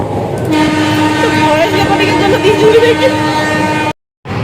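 A passenger train rumbles along with a steady, loud mechanical drone and a faint tonal whine, while voices talk close by inside the carriage. The sound cuts off abruptly near the end.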